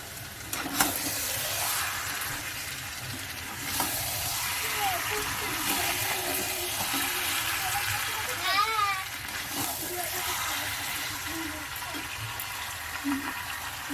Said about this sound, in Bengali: মাংসটা কষিয়ে নিয়ে